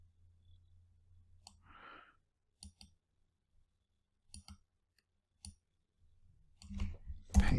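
Sharp computer mouse clicks come singly and in quick pairs, spaced irregularly over a quiet room background. A soft rustle sounds early on and a louder bump comes at the end.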